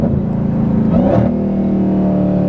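A widebody Dodge Hellcat Redeye engine revs hard and loud as the car accelerates while its tires struggle to grip, with a rising roar that briefly peaks and then settles into a sustained high-rpm drone.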